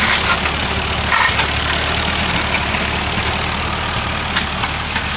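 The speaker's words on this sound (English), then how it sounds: "we've got one right here learning to drive the tractor" A tractor engine runs steadily at a low rumbling idle, constant and fairly close, with no talking.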